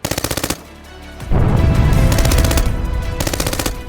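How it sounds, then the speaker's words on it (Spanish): Gunfire echoes through a residence during a hostage-rescue assault: rapid automatic bursts open and return near the end, with a loud rumbling crash between them. "Los disparos resonaron por toda la residencia."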